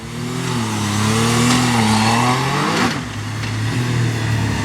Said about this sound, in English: the shifting sound is very weird